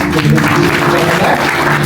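Audience applause at a book launch event, a dense burst of clapping, close and fairly loud, lasting the whole moment.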